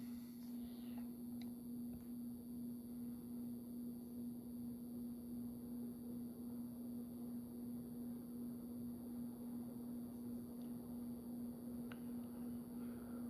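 A Crompton-Greaves High Breeze Classic 48-inch ceiling fan runs on medium speed, giving a faint, steady motor hum with a smooth airy whoosh that stays constant throughout.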